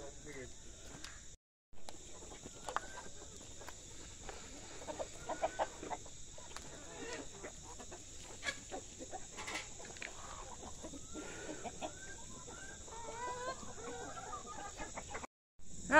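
Backyard hens cluck and murmur before feeding, soft repeated calls scattered over a faint, steady outdoor background, with a voice speaking now and then.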